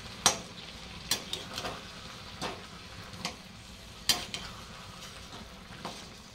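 Carrot halwa enriched with khoa being stirred in a pan, producing soft scraping strokes with a few sharper clinks of a spoon against metal, spaced irregularly over a quiet background.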